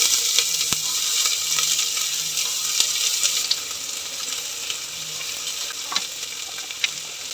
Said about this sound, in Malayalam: ഒരു ടീസ്പൂൺ ഇഞ്ചി വെളുത്തുള്ളി പേസ്റ്റ്, ഇച്ചിരി ഉപ്പിട്ടിട്ട് ഇതെല്ലാം കൂടെ ഒന്ന് വഴറ്റാം